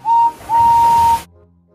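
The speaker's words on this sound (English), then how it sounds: "he blew his whistle and exited the steamworks" A cartoon steam locomotive gives two whistle blasts, a short toot followed by a longer sustained note, clear and loud, ending abruptly.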